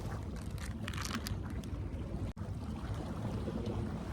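Ocean waves wash steadily at a seaside fishing spot in southern Boso, a constant low surf roar with some wind and one brief dropout.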